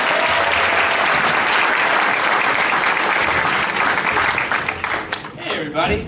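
Loud, sustained audience applause for the Dancing Wolves jazz group at a Jefferson Center music lab jazz institute performance, dense clapping that fades toward the end as a voice begins to speak.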